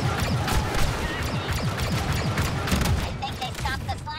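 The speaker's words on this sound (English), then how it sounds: "Ah, grenades! Grenades everywhere!" Grenades burst one after another in a Star Wars Battlefront 2 battle, a dense run of crashing blasts and clatter layered over constant combat din, with voices mixed in.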